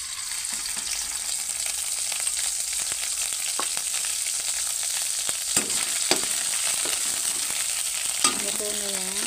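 Alamang shrimp paste sautéing in a pan, a steady close sizzle with scattered stirring scrapes throughout and a brief squeaky scrape near the end.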